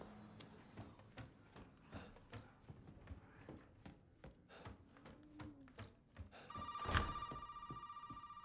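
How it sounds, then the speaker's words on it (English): A telephone rings in Resident Evil 7, a loud electronic bell tone bursting in near the end over a run of rhythmic footstep-like taps and low game ambience. "Nobody got time for that phone call."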